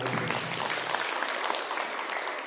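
Audience applause at a Kartik Mahatma katha religious discourse, steady dense clapping from a large crowd throughout, fairly close and even in level.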